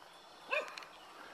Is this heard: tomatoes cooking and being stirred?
no